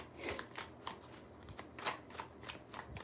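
A deck of tarot cards being shuffled up close, a quiet run of rapid riffling flutters.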